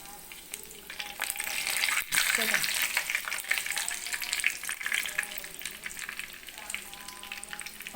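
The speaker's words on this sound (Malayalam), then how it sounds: "നമ്മുടെ എണ്ണ നന്നായിട്ട് ചൂടായിരിക്കുകയാണ്. ഞാനിത് ഓരോന്നും അങ്ങോട്ടിട്ട് പൊരിച്ചെടുക്കാൻ പോവാം കേട്ടോ." Potato and mushroom balls deep fry in hot oil, a loud continuous close sizzle with crackling bubbling and occasional stirring clinks.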